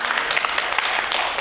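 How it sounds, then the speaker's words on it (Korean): Congregation at a church worship service applauding to welcome a visiting couple, a steady dense patter of many hands clapping throughout with no talk over it. "박수로 해주시기 바랍니다."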